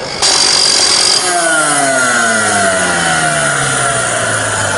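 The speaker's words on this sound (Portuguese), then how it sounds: "Eu estou usando a esmerilhadora para fazer a limpeza" An angle grinder cleans a weld bead on metal. It gives a loud, harsh burst of grinding, then the disc winds down in a long, steady falling whine as the tool spins to a stop.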